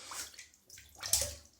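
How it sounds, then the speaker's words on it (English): A shaving brush swished through a sink full of water gives two quick splashy bursts of sloshing and dripping, close and fairly soft, with no talking. "let's swiftly moisten the shaving brush in a sink full of water"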